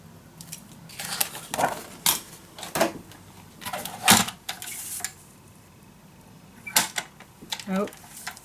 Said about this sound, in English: So I just used another color of cardstock, and I just cut this down as we normally do.